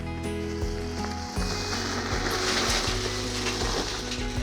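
Fogo lump charcoal is poured into a Weber Go Anywhere grill, a loud rattling clatter of coal pieces tumbling together, with a steady hum running underneath.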